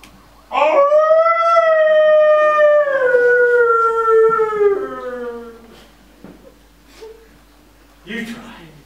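A person imitates a wolf howl on a theatre stage, a long sustained wavering vocal howl that slides downward over several seconds, followed by quieter breathy sounds and a brief final vocal burst.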